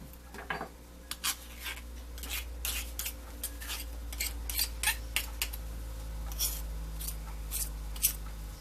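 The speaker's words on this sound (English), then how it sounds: "I can't scrape this too well because then everybody's going to be disappointed" A utensil scrapes homemade caramel icing from a metal pot, producing repeated short rasping strokes, close and fairly quiet over a low steady hum, with no talking.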